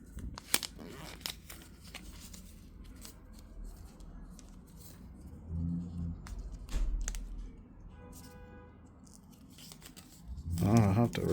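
Plastic wrap being peeled and torn off an iPhone 17 Pro Max box during an unboxing, faint crinkling and scratchy handling sounds with a louder tearing rustle at the end, with occasional speech.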